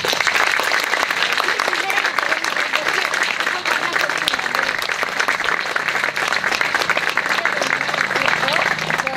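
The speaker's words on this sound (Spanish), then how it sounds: "Pido un fuerte aplauso para ellos." Strong, steady applause from an audience at a school commemoration ceremony for the 40th anniversary of the Malvinas, continuous dense clapping throughout with crowd murmur beneath.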